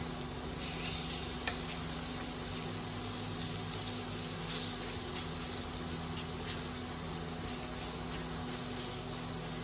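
Pork fillet sears in butter in a hot pan, a steady close sizzle and crackle running the whole time with occasional stirring scrapes, no voices.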